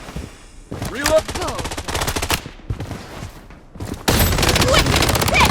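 Rapid automatic gunfire from an FN F2000 rifle in the shooter game Blood Strike, loud bursts of repeated shots broken by short pauses, with game announcer voice and effects around them.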